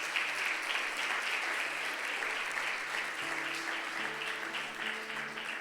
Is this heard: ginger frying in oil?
no